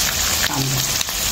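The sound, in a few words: onion frying in a pan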